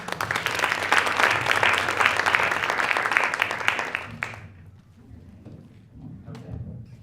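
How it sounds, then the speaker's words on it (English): An audience at an economic justice forum in Massachusetts claps in a dense, steady burst for about four seconds. The applause then falls away quickly into quiet room noise. "Give everybody a round of applause."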